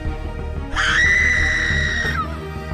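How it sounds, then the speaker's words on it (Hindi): A piercing, sustained scream from a horror cartoon story rings out loud and alone for over a second, then cuts off abruptly. "जब आर्यन और नेहा ध्यान से देखते हैं तो उनकी चीख निकल जाती है।"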